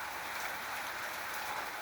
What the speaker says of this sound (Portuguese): Hoje Deus nos agraciou com essa chuva maravilhosa que tá caindo, ó.